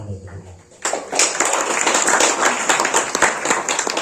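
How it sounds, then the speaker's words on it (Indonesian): An audience at a religious lecture breaks into sustained applause after a brief pause, many hands clapping together, loud and close for several seconds. "Tepuk tangan untuk kita"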